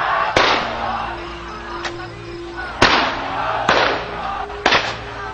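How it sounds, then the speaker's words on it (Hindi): Gunfire from firearms at a mourning gathering, four or five sharp loud reports spaced a second or so apart, ringing out over a background of crowd noise and voices. "लगातार असलहों से फायरिंग"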